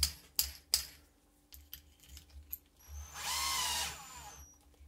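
A Bosch PBSA 12 D4 cordless drill with a faulty, wobbling chuck, heard as several sharp clicks and clatters of handling followed by a short, close whining burst of the motor spinning up and stopping.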